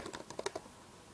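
A password is typed on a computer keyboard while an email account is being set up, a brief burst of about half a dozen soft, close keystrokes and then quiet.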